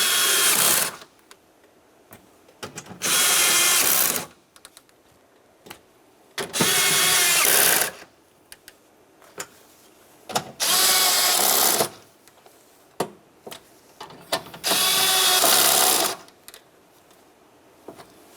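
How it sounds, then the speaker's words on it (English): Power tool drives the window regulator mounting bolts on a 2012-2018 Nissan Altima, five bursts of whirring motor separated by short pauses and small clicks, moderately loud and close with no talking. "After you have all 5 of your mounting bolts started, snug them up."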